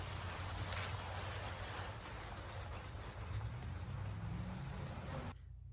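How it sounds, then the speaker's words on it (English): Water sprinkles lightly over soil in seed trays, a soft, steady patter and hiss that stops abruptly near the end. "soil is on top and a quick light water."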